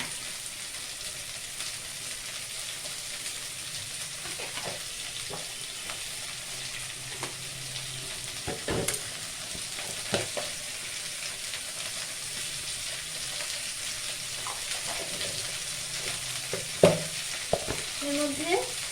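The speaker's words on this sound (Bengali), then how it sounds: "দিয়ে এটা একটু ভাজা ভাজা করে দেবো। এর মধ্যে নুন আর হলুদ দিয়ে দেবো।" Ingredients for sambar dal fry in a pan with salt and turmeric, a steady soft sizzle broken by intermittent scrapes and clinks of stirring, close and with no talking.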